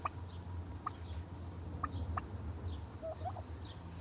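A turkey hen sitting on her nest gives soft, scattered clucks and short chirps, faint and close, over a low steady background hum.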